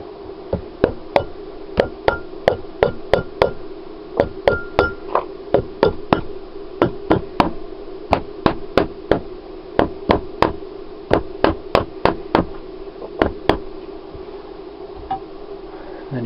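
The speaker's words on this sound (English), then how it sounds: "with a padded hammer, or if you haven't got a padded hammer, you can always use a hard hammer and a block of wood" Steady, evenly spaced hammer taps driving a bearing into an electric motor, a long run of sharp close knocks, roughly two per second, with no talking.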